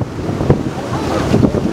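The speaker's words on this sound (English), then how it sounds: "the winds are gusting again, still about 45, 50 miles an hour" Strong wind gusting at about 45 to 50 miles an hour on the summit of Mount Washington buffets the microphone, a loud continuous roar with uneven surges.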